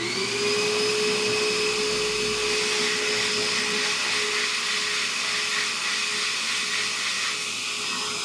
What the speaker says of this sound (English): I just take a flat screwdriver and we'll just run that along and it'll clean that out.